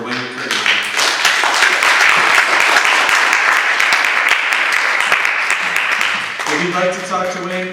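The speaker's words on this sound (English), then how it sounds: "can we give one big round of applause for Wayne McKirdy?" An audience applauds a Korean War veteran after his talk, a dense, steady wash of clapping that holds loud for several seconds before tapering off, with a voice beginning to speak at the end.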